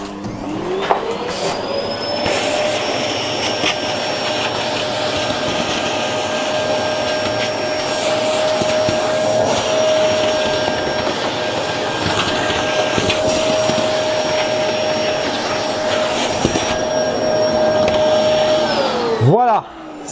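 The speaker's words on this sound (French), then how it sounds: "Je vais passer l'aspirateur vite fait." A vacuum cleaner runs continuously while cleaning a touring bicycle during brake pad work, a loud steady whine with shifting pitch as the nozzle moves, then winding down at the end.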